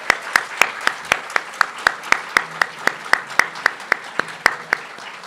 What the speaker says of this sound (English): Could we have a round of applause for the admitted students in the audience?